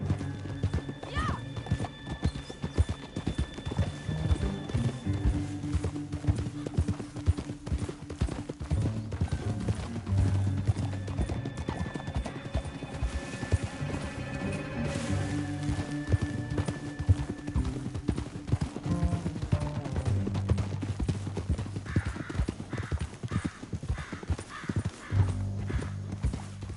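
Horse hooves clip-clopping at a gallop in the Western video game Red Dead Redemption 2, steady rhythmic beats with occasional whinnies, set under game music and other in-game sounds, without spoken lines.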